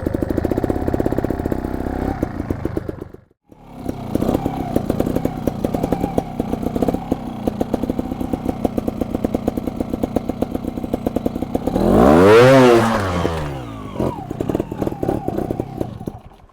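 Loud, continuous engine of a 2021 Beta EVO 300 trials motorcycle, revving steadily up close with a brief cut-out early on and a sharp rising-and-falling rev burst near the end.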